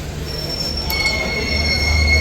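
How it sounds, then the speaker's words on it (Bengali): Gour Express to Malda Town pulling into a station platform, with a steady high metallic wheel squeal over low rumbling rail noise that grows slightly louder as the train arrives. "মালদা টাউন গৌড় এক্সপ্রেস এলো"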